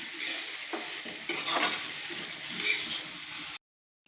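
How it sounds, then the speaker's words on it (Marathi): Close stirring of a dry cabbage and chana dal stir-fry with coriander in a pan, soft scraping and light sizzle with a couple of faint metallic clinks, ending abruptly in silence. "टाकली आपण चांगली हलवून घेऊ."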